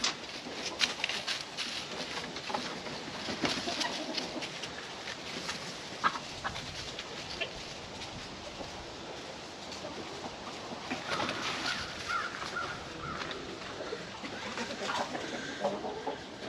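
A rooster at a farm crows and clucks faintly in the distance, under a steady outdoor wash of wind and water noise, with a few other birds calling now and then.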